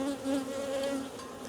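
Honey bees buzz on a hive frame during a colony split, a close, steady, tonal hum with slight pitch wavering and no voices.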